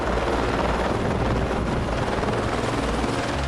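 Helicopter flying over the rugged, vast landscapes of the French Southern and Antarctic Lands, a steady loud rotor and engine drone filling the whole clip without pause or voices.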